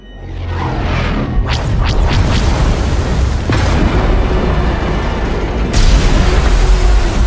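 A ship is hit by incoming fire in Star Wars: The Old Republic, producing a loud booming explosion with whooshing bursts that settles into a sustained rumble, then a second heavy blast near the end.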